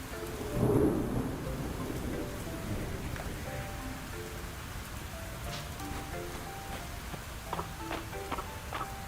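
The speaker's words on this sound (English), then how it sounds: "The sound of thunder woke me this morning as well." Steady rain patters throughout a Fields of Mistria thunderstorm, with a soft low thunder rumble near the start, while faint chiming game music plays quietly underneath.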